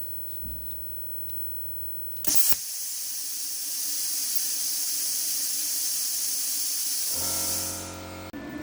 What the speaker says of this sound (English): So that blew air through the torch for 5 seconds to cool down the consumables, the tip.